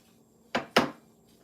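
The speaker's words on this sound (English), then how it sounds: "while I'm scraping this out" Cookie butter scraped out of a container, two quick close scraping strokes in a row, fairly loud against a quiet kitchen background.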